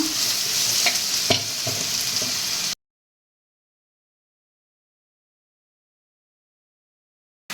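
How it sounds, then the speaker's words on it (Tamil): Onions sauté in oil with dried chili, garlic and ginger, a close crackling sizzle with a few spoon knocks for under three seconds before the sound cuts to silence. "இப்போ வந்து வெங்காயம் வதக்கியாச்சு"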